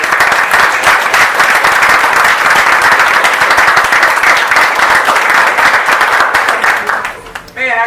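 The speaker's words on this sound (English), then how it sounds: "So I want to give him a round of applause." Loud, close clapping from an audience at an Our Revolution event in Detroit applauds a young man named Jordan, sustained sharp claps filling the room before dying away near the end.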